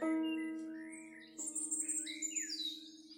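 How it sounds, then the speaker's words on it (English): Bright birdsong chirps and trills for a radio drama's calm opening, entering partway through after a sustained tonal hum, fairly faint and airy with several rising and falling phrases over the lingering drone. "We start off with this calming sound of birds"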